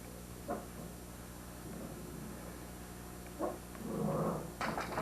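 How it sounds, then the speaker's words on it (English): Two dogs give a few short, scattered barks and yips at moderate distance, with quieter gaps between them and a louder burst of barking toward the end. "These two dogs, see how they bark."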